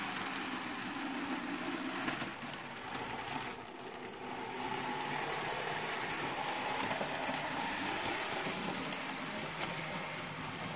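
An N-scale model railway layout from 1960 with a local passenger train running along the track, giving a steady, close rolling whir and rattle that continues throughout with slight swells and no talking.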